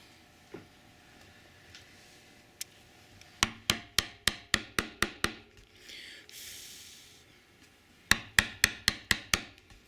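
A hand chisel driven into northern white pine, probably by mallet blows: a lone knock, then a quick run of about eight sharp close strikes, a brief scraping pause, and another burst of six strikes, with no voices.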